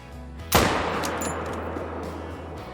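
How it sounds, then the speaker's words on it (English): A Mosin Nagant rifle fires a single loud shot while hunting whitetail deer in the Call of the Wild hunting game, a sharp crack followed by a long fading echo over a steady low ambient hum. "I think I might take him with the Mosin Nagant at about 250."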